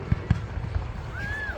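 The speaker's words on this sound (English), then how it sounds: "we're just trying to enjoy the fireworks" Fireworks on Bonfire Night in Elgin pop and thump in a few scattered low bangs, with a faint rising whistle near the end, at a middle distance amid outdoor crowd noise.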